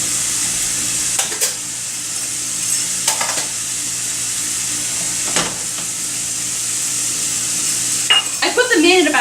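Breadcrumbs are stirred through hot sausage oil in a pan, giving a steady sizzle with a few scraping strokes of the spoon and a brief clatter near the end.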